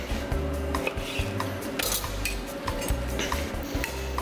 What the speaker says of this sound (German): Zuerst schneiden wir uns Schweinemedaillons ab.